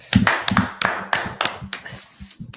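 Clapping from a handful of people standing up, sharp, uneven hand claps about a third of a second apart, close and dry, with no voices.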